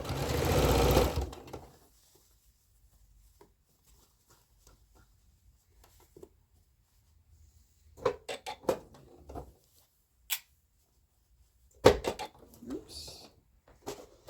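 Sewing machine stitching a dress band opens with a loud, close, short whirring run of stitches, then stops. Quiet handling clicks and bumps follow in the pauses.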